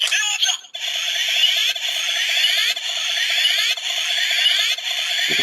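Kamen Rider Ex-Aid DX Kimewaza Slot Holder toy looping its electronic standby sound, a bright synthetic pattern repeating roughly every second, loud and close through a small plastic speaker.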